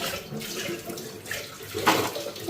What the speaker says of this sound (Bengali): এক ধোয়া দিছি আর এক ধোয়া জল এখানে জলে দিচ্ছি